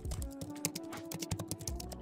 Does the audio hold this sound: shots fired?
no